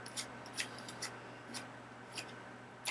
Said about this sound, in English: you're going to pull cards off, doing an overhand shuffle